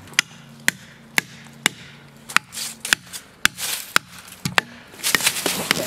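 Sharp metal hammer blows drive felling wedges into the cut of a palm tree, landing about twice a second in a steady, close rhythm that quickens toward the end, each strike ringing briefly before the next.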